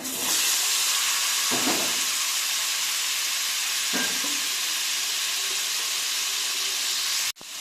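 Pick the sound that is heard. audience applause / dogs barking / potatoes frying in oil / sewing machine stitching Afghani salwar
potatoes frying in oil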